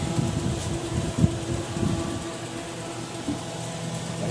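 A Toyota AE111 with a 4A engine idles in a workshop after a full preventive maintenance service, a steady low mechanical hum with a faint fan-like whir, running evenly throughout with one brief knock.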